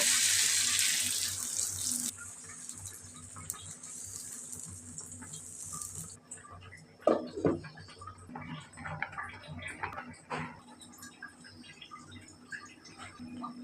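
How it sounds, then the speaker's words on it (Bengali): Water pours into a cooking pot in a home kitchen, a bright rushing stream for the first few seconds, then quieter clinks, splashes and small handling sounds, with no talking. "এখন আমি পানি দিয়ে দেব"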